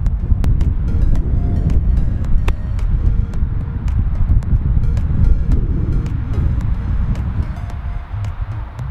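Steady wind rumbles and buffets against the microphone on an 18-hole golf course in Estes Park, a continuous close roar broken by scattered sharp clicks, with no speech.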